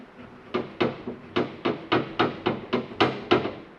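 A steak knife with an edge ground on its end scrapes an old gasket off a Can-Am Maverick 1000 engine part in roughly ten short, rhythmic, close strokes, each a sharp rasping burst, with no talk.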